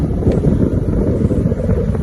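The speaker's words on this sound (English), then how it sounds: "It's a little bit windy right now." Strong wind buffeting the microphone, a loud continuous low roar with gusty fluctuations and no voices.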